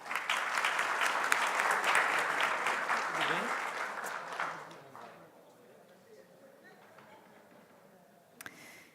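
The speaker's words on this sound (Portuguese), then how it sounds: "peço a todos uma salva de palmas a ele" Audience at a business summit in Guarulhos applauding as a speaker takes the stage, loud sustained clapping that fades out after about four seconds into quiet room tone with a brief knock near the end.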